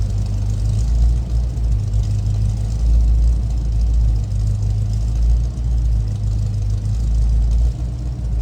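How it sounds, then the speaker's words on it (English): Steady deep idle of a 1966 Ford Mustang coupe's 302 V8 running Cherry Bomb mufflers, headers and true dual exhaust, a loud, close, even low rumble with a slight lope and no talking. "Those cherry bombs sound good on there, especially with the headers. True dual exhaust."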